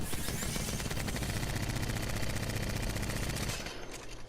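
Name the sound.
weapon firing in the video game Apex Legends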